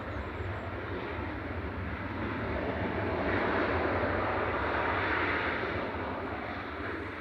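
A passenger jet rolls out on the runway after landing at Manchester Airport, a broad, steady engine roar heard from a distance that swells slightly midway and then eases, with light wind on the microphone.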